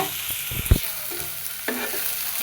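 Hilsa fish heads go into hot oil with a short burst of frying and a soft thud, then a steady low sizzle with light stirring scrapes, close and moderately quiet.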